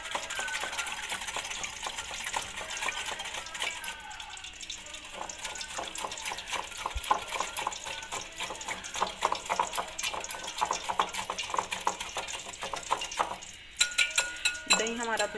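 Gram flour batter is stirred with water in a metal bowl, giving a steady, close run of wet scraping and clinking strokes that continue without pause.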